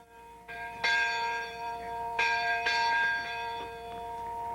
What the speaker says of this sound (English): We're going to hear the bell ring.